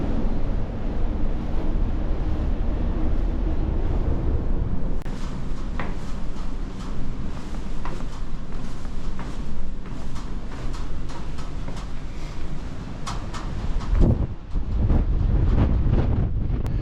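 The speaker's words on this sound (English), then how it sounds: "like being in a wind tunnel" Strong wind buffets the microphone on Darwen Hill, a steady roar with gusting rumbles throughout and a brief dip near the end.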